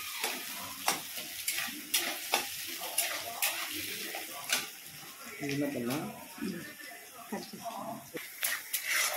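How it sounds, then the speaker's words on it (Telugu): Onions fry in hot oil for a dhaba-style chicken curry. A soft sizzle runs under repeated sharp scraping stirs of the spatula against the pan, and a voice talks over parts of it. "ఇలా ఆనియన్ను రెడ్గా వచ్చేదాకా వేయించుకొని"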